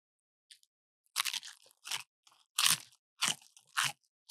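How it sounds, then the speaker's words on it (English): Crunchy slices of pizza reheated in a skillet being bitten and chewed, with several distinct crisp crunches in an irregular rhythm, close and fairly loud, separated by brief pauses of silence. "Chef Dave just hooked us up with some nice crunchy pizza"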